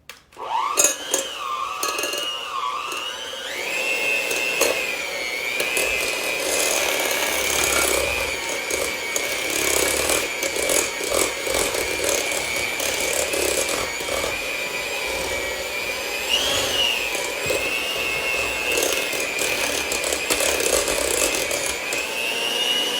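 An electric hand mixer whirs steadily and loudly while beating salted butter for a homemade strawberry cake, its motor pitch wavering slightly as the beaters work through the bowl for a long continuous stretch.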